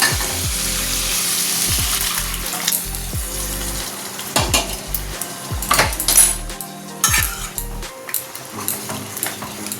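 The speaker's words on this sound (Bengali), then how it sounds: "মশলাটা কষিয়ে নিলাম। হয়েই গেছে কষানো, ডালটা ঢেলে দিচ্ছি।" Lentil dal for a fish-head dal is poured into spice paste fried in a pan, raising a bursting sizzle followed by repeated scraping and clacking of a utensil stirring against the pan.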